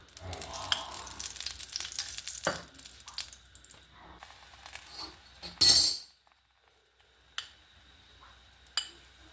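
Ghee spits and sizzles in a hot pan while a radish paratha cooks, crackling frying noise with clinks of a utensil, a sharp scrape near the middle, then quieter taps.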